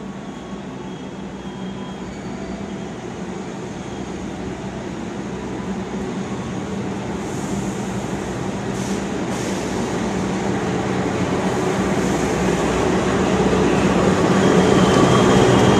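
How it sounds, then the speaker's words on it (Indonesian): The Cikuray passenger train rolls into a station on track 6, a broad steady rumble of wheels and engine that grows gradually louder and nearer throughout. "Jalur 6 dari arah timur masuk kereta api Cikuray."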